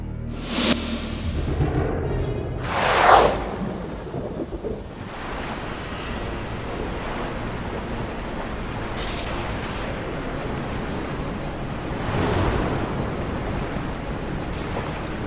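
Water rushes through a crack in a dam, making a steady broad roaring wash. Early on, a few louder whooshing surges rise above it, and another swell comes later, with no voices.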